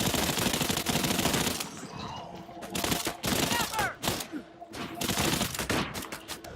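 Mounted guns in the video game Earthfall fire rapid bursts of automatic gunfire, loud and dense, broken by short pauses between volleys.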